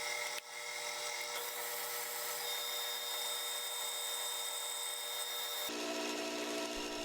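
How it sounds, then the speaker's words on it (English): A lathe cutting a chamfer on a John Deere 110 lawn tractor tie rod, a steady high-pitched metallic whine with faint tonal streaks that shifts and drops in pitch near the end, close and continuous. "Now I need a chamfer on there where the threads start."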